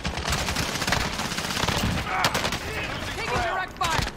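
Gunfire in the video game Call of Duty: Warzone: sustained, dense bursts of automatic fire, loud and continuous for the whole stretch, with a voice speaking faintly underneath.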